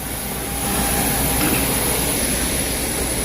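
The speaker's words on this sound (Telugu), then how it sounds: "బోయింగ్ ఇది బోయింగ్ 373 ఫ్లైట్, బాగుంటుంది బండి." Boeing jet airliner engines give a steady, loud broadband roar that swells slightly after the first half second and then holds constant, with no voices.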